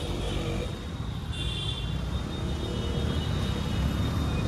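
Several motorbikes, including a Yamaha R15 V4 sports bike, rev hard at full throttle close by, forming a loud, continuous engine roar that holds steady throughout.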